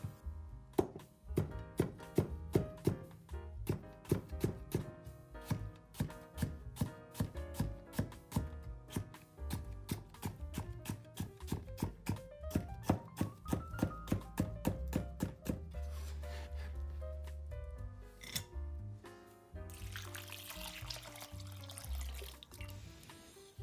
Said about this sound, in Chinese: 切丝的时候尽量铺开的平整些，这样土豆片之间不容易滑动，切的就更均匀